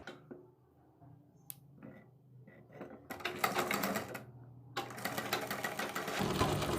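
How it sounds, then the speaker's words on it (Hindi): A sewing machine stitches fabric triangles together for a kurti neck design, with quiet handling clicks first and then two close, loud bursts of rapid stitching rattle. "इस तरीके से सेट करने के बाद इसे आपस में सिलाई मारकर अटैच कर दें ऐसे"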